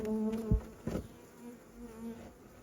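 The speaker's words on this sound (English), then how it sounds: "those bees are packed in there" Honey bees buzzing inside an open hive during a first inspection, a steady close drone with a sharp thump and a brief burst of louder activity partway through.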